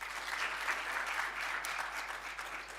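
Steady audience applause fills a launch event for a youth coding initiative, a dense, continuous patter of many hands clapping at moderate distance without a break.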